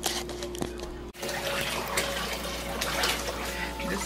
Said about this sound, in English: we need to wash it and pour this all out